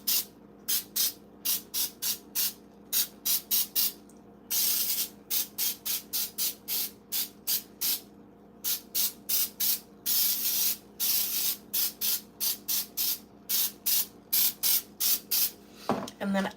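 Pam baking spray is sprayed into a donut pan in many short repeated bursts of hissing, evenly paced with brief gaps, close and clear.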